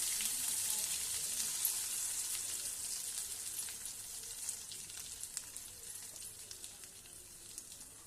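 Ridge gourd chutney poured into a hot tempering, giving a faint, continuous high sizzle with scattered small pops and crackles, no voices.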